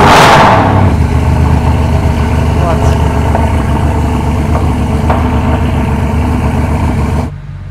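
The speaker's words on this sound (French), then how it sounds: "il y a une SLS Black Series et apparemment, bon, elle a quelque chose de spécifique au niveau de l'échappement" A Mercedes SLS Black Series with a special exhaust rumbles loudly and steadily at idle, a sharp blip at the start, then cuts off abruptly near the end.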